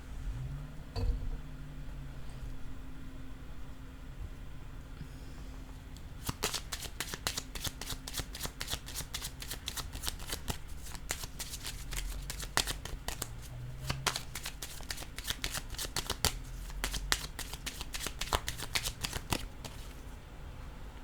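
A deck of cards for a card reading being shuffled close up, a long run of rapid riffling flicks that starts after a few quiet seconds with faint background hum, then continues steadily to the end.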